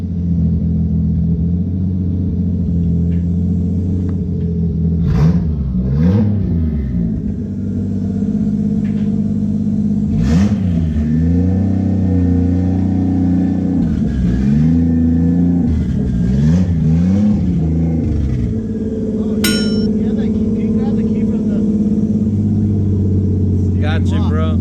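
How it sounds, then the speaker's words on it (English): A Toyota Supra with a rev limiter set near 7,000 RPM revs and accelerates in several loud rising and falling sweeps, its engine drone steady throughout while people talk over it. "Aquí viene Omead en el Supra."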